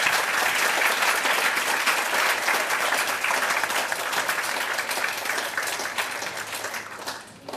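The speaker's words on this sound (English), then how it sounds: "And a big round of applause" Sustained applause from a dinner audience, a dense crackle of many hands clapping that holds strong for several seconds and then thins and fades toward the end.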